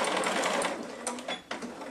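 A sewing machine stitches the corner of a jersey fabric child's neckerchief, its motor whirring loud and steady close by, then slowing and stopping briefly in short bursts toward the end.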